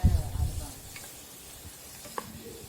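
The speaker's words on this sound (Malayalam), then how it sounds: "ഇനി ഇതൊന്ന് പാത്രത്തിൽ നിന്ന് വിട്ട് വരുന്നവരെ ഇതുപോലെ ഇളക്കിക്കൊണ്ടേ ഇരിക്കണം." A coconut and pineapple sweet mixture is stirred in a pan, with soft scraping and gentle sizzling. The stirring is louder at the start, then fades to quiet bubbling.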